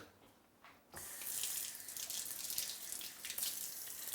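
Water from a faucet or shower runs for hair washing, starting abruptly after a quiet moment and then pouring steadily with a hissing splash, fairly soft, with no voices.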